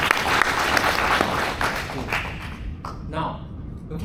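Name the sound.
audience applause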